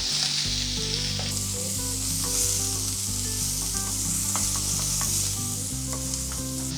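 Onions sauté in a pan for a drumstick and egg masala, giving a loud, continuous sizzle up close with faint clicks of stirring, no one speaking, and a steady low hum beneath.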